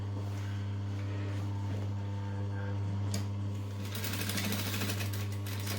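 A sewing machine stitches a persimmon dumpling pouch, backstitching at the ends, with a steady close motor hum throughout that grows busier and louder toward the end.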